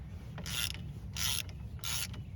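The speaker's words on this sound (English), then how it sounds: "long arm 3/8 drive ratchet in the on position" A long-arm 3/8-inch drive ratchet with a 6-inch extension clicks in three separate short bursts, close and crisp, while working on the rear hub bearing bolts of a 1986-91 Buick LeSabre.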